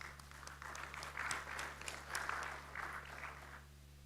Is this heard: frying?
no